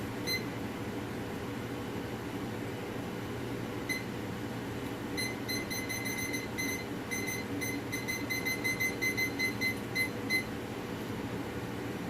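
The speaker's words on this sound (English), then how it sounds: "we're going to set a timer for that" Short electronic beeps from a kitchen timer being set while red beans and rice with smoked sausage cook, scattered single beeps and quick bursts over a steady low kitchen hum, fairly close.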